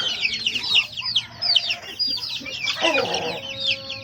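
Chicks and chickens cluck and peep together in a growing pen, a busy close chorus of short chirps and clucks with no one speaking.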